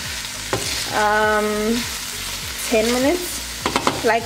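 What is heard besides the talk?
browning chicken, mushroom and bacon in a pan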